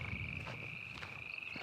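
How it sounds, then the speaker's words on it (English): Frogs croak loudly and steadily in the wilderness near beaver dens, a dense continuous chorus with a sustained high trill running through it and no voices. "there's tons of frogs. It's just so loud out here."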